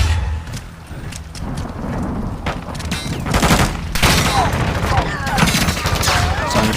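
Gunfire from a custom-built gun in a Modern Warfare 2 match, loud rapid bursts of shots with sharp cracks and rolling echoes over several seconds amid game ambience.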